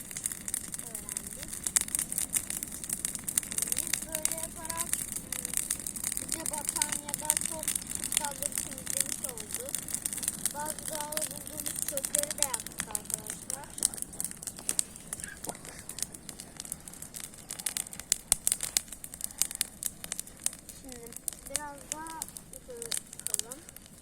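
An outdoor fire burns in a garden with a steady crackling hiss, while birds chirp intermittently nearby.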